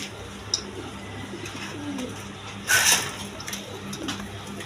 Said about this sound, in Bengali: দর্শকবৃন্দ এইখানে এক পেয়ার বোম্বাই কবুতর আছে দেখেন,